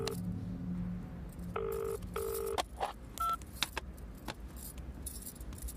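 A phone call rings without being answered, with a few repeated electronic tones near the start over faint background hiss and scattered clicks and rattles.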